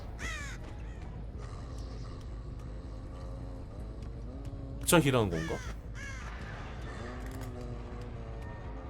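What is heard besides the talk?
crows cawing in the video game Dead by Daylight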